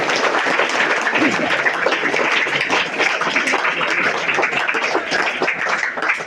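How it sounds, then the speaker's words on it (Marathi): An audience at a Guru Purnima gathering in Kolhapur breaks into loud, sustained applause, dense clapping that holds steady throughout. "वाजवा, टाळ्या वाजवा एकदा त्यांच्यावरती."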